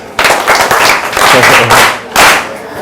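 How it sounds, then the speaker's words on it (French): A crowd claps for a woman at a French-speaking public gathering, loud close bursts of applause that swell, dip briefly and surge again, with some voices mixed in. "Est-ce qu'on peut applaudir pour elle?"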